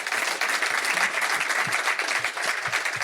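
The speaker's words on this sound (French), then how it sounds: "on peut applaudir Julien" Audience applause at a sailing talk show, dense and even clapping from a crowd that sustains throughout the short moment without letting up.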